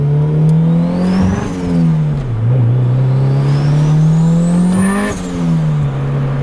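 A widebody Honda Civic, roughly a 400-horsepower build, revs hard from inside the cabin, the engine note climbing and dropping through gear changes with a loud, close, droning tone.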